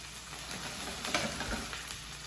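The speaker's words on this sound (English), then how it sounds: "So it's searing. Oh, that's a big fire." Meat sears loudly in a very hot pan, a steady dense sizzle and crackle with stirring, close and continuous with no talk.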